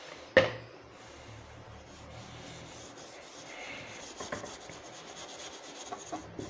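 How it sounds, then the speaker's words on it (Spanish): Steel wool and thinner scrub glue residue off a BC Rich Warlock bass, a soft repeated rubbing scrape after one sharp knock at the start. "si usamos un solvente, y la esponja esta metálica, la lana de acero, es mínimamente abrasiva"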